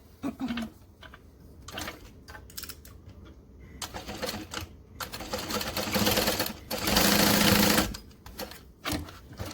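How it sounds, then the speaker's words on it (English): Sewing machine joining the bottom gussets of a bag with a 3/8-inch seam, heard in several short bursts of rapid close stitching chatter separated by pauses and handling clicks, the longest run near the end. "So I'm going to sew my bottoms together"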